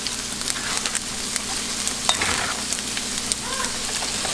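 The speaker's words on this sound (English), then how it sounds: "stirring this so it doesn't burn" Cantonese-style fried rice being stirred in a hot pan, a steady close crackling sizzle with scraping spatula strokes and small clinks throughout, no voices.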